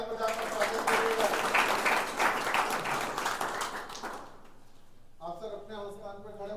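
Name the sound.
audience applause welcoming a guest at job fair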